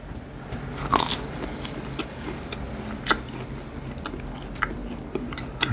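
Crunchy roller coaster cookie, spiced and soft inside, bitten and chewed close to the mic: a loud crisp bite early on, followed by scattered crackling crunches and softer chewing, with no talking.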